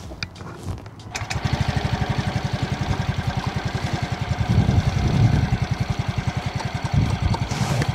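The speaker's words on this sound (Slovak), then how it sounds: "Takže teraz môžeme nasadnúť na motorku, naštartovať a začať s prvým cvičením." A scooter engine starts and runs at a steady idle, a close, even putter with rapid regular pulses that swells slightly as it settles, heard alone without talk.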